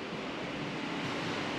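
Ocean surf heard from a hotel balcony on Lombok Island, Indonesia: a steady, even wash of waves with no distinct breaks, moderately loud and without voices.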